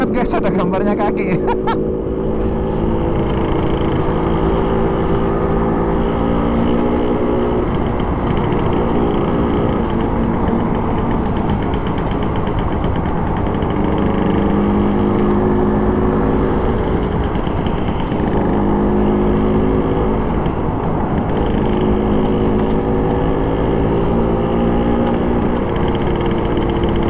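A 1962 Vespa VBB two-stroke scooter engine buzzing loudly and steadily nearby, its pitch rising and falling as it circles past.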